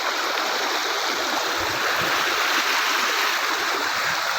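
Floodwater from a burst embankment surges steadily across flooded farm fields in a village, a loud continuous broadband rush with no pauses and no voices.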